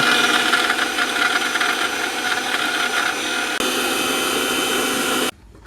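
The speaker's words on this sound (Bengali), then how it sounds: "এই জায়গায় আদা রসুন এই ব্যালেন্ডার করে নিলাম" A kitchen blender grinds ginger and garlic for khichuri, a steady loud whirring buzz that runs continuously, shifts slightly partway through, then cuts off abruptly near the end.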